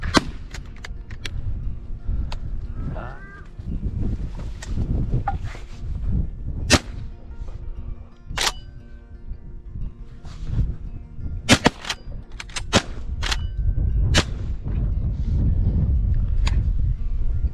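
Shotgun blasts ring out over Australian rice fields during duck hunting over decoys, with several sharp reports at irregular intervals and some in quick pairs, over steady outdoor wind noise and rustling.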